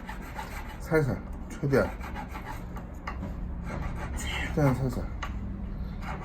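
Inner bottom of a 14K, 18K gold or silver jewelry piece being scraped by hand, short rasping strokes at close range in a few separate bursts while a person speaks softly over them.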